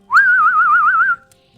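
A person whistles a single sustained note of about one second with a quick, regular vibrato wobble, clear and close, with no speech around it.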